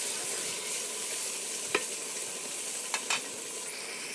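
Meat cooks in a clay pot with a constant moderate sizzle. A few sharp stirring scrapes break through, one near the middle and a pair toward the end.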